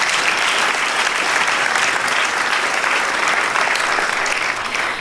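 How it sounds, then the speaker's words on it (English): A conference audience at a dance gathering gives a steady round of applause, thick continuous clapping that holds loud for several seconds and eases slightly at the end. "Let's have a round of applause."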